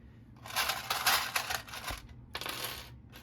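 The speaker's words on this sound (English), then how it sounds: "And then we're just going to clip it on." A sewing clip snaps onto a zipper and bag fabric up close, giving a quick rattling clatter followed by a second shorter burst of handling noise, with no voices.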